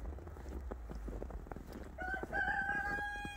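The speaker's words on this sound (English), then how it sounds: "And I hear Hawk, our rooster, crowing." A rooster crows outdoors in the snow near a chicken coop, a drawn-out cock-a-doodle-doo rising clearly in the second half over faint background clucks and footsteps.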